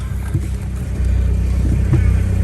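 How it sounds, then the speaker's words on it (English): A Peugeot 309 diesel engine cranks and catches after the glow plugs warm, then settles into a close, steady, low clattering idle that grows slightly louder. "key in, glow plug light works, turn the fan off, take that gear, start her up"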